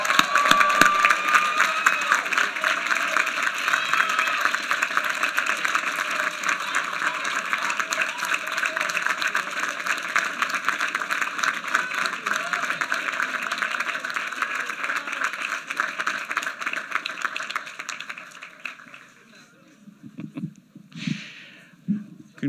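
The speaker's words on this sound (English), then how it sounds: "that is to applaud while our new alumni move their tassels from the right to the left" A large audience at the KGI 2013 commencement applauds steadily for about eighteen seconds, a dense even clapping that then thins out and fades into scattered claps.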